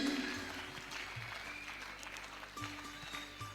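Audience applause at a national theatre festival, a steady wash of clapping from a crowd that carries on through the whole stretch at moderate level, with faint tonal hum beneath.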